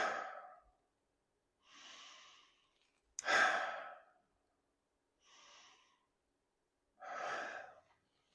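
Slow, deep mindful breathing close to the mic: several long breaths in and sighing breaths out, alternating with quiet pauses between them, and no talk.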